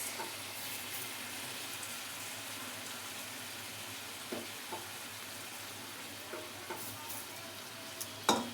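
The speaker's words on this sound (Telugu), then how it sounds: "ఇప్పుడు ఆల్రెడీ వాష్ చేసి పెట్టుకున్న రైస్ వేసేసుకున్నాం ఇందులో." Washed rice being stirred into sautéed vegetables in a pot for mealmaker pulao, a soft steady sizzle under occasional scraping knocks of a spoon, growing sharper near the end.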